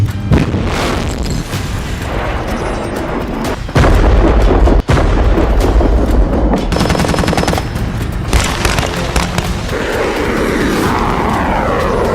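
Loud bursts of rapid gunfire and heavy booming shelling blasts from the Russia-Ukraine war, with an aircraft roaring overhead, fill the whole stretch with dense battle noise and no talking.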